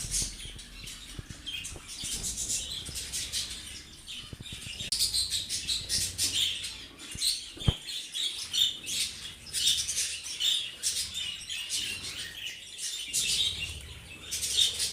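Pet budgerigars chirp and tweet continuously in a lively indoor chorus, with a few squawks and brief rustles of movement, moderately close and free of speech.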